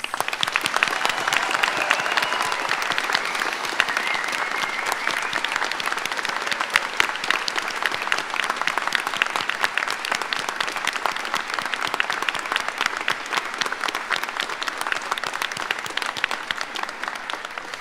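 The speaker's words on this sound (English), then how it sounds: "Please everyone now give our graduates a huge round of applause." Sustained applause fills a Charles Sturt University graduation ceremony as the audience claps for the graduates, a dense, steady roar of many hands lasting the whole stretch without letting up.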